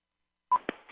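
Short burst of touch-tone dialing on a cordless phone, a sharp tone followed by a couple of brief beeps, close and fairly loud in an otherwise quiet line.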